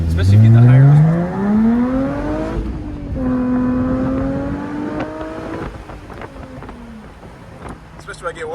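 A Jaguar F-Type convertible with the AJ V6 engine and manual gearbox, driving with the roof down. It revs loudly through rising pitches, eases off, then climbs again, with wind noise throughout.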